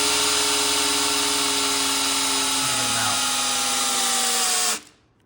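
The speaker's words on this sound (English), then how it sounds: "About to burn up the drill, it smells like." A brushed Milwaukee cordless drill runs under full pressure, whirring at a steady high pitch, its motor tone dipping slightly midway before it cuts off abruptly near the end; the drill is overheating.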